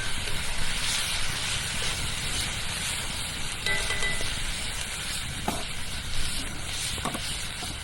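Ground beef and a can of pork and beans are stirred together in a pan for cowboy stew, giving a steady low sizzle with soft scraping and spoon movement, close and continuous.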